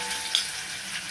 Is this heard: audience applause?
no